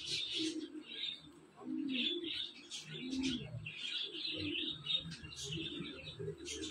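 Champion pigeons coo softly in low, rolling bursts, with brighter chirps and tweets scattered over them, fairly quiet and close by, alongside faint human voices.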